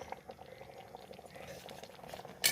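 A pot of kachil erisseri, a purple yam curry with ground coconut, cumin and garlic paste, bubbles and pops steadily at close range, ending with a brief louder splash.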